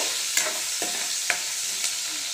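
A ladle stirring a tempering in a pan over a steady hiss of hot oil, with a few distinct scraping knocks spaced through the sizzle.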